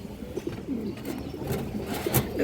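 Pigeons cooing at a pigeon sale, soft repeated throaty coos from several birds close by, steady and moderately quiet with no talking.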